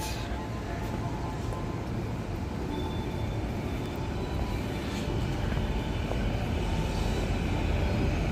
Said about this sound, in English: that's the Chuo line running up here